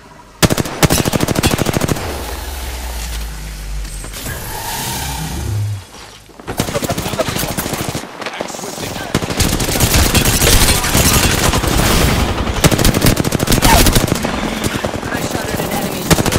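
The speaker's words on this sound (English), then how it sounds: "I shot at an enemy." Automatic gunfire in Apex Legends, dense rattling bursts that break off briefly and then resume, loud and close throughout.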